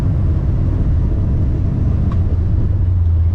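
A 1970 Chevrolet Nova two-door sedan cruising down the road, heard from inside as a loud, steady low engine rumble and road drone with no break and no talking.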